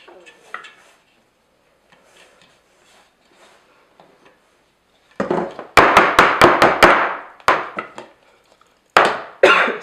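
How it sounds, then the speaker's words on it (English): A cake pan filled with vanilla cake batter is rapped on a kitchen counter, first faint soft knocks, then a quick series of loud, sharp clattering taps close by, with a final burst at the end. "Give it a little tap to help it settle."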